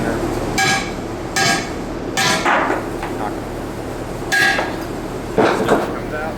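A hammer strikes a chisel to take apart a wheel rim, six or so sharp metallic clanks spaced irregularly over a few seconds, loud and close, with scraping and a few words of speech between blows.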